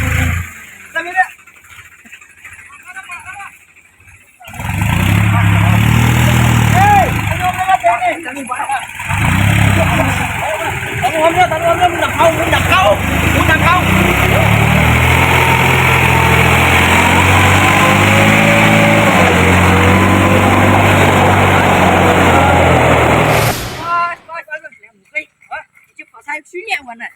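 A tractor engine runs loud and close in a rural roadside setting, a steady droning rumble lasting most of the stretch before cutting off, with people talking and shouting over it.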